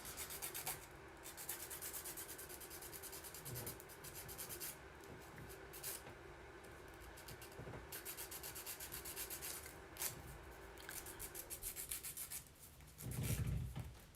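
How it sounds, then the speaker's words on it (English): A nail file rasps back and forth across a fingernail with a bump in it, steady close scratchy strokes running nearly continuously, with a brief louder rub near the end and no talk. "This nail has a bump in it anyway, so it's good I'm filing it down."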